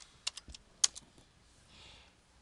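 A handful of sharp, close clicks from typing on a computer keyboard, spaced irregularly and fairly quiet, followed by a soft brief rustle, with no speech.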